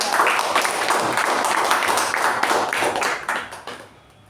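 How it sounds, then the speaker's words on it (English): Dense applause from a crowd at a Toastmasters meeting, steady and loud for several seconds before tapering off toward the end. "Let's give a huge round of applause to both the speaker and the"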